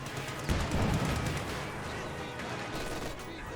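MG34 machine gun firing in a Company of Heroes 2 battle, a dense burst of rapid shots near the start over a steady wash of distant battlefield noise and other gunfire.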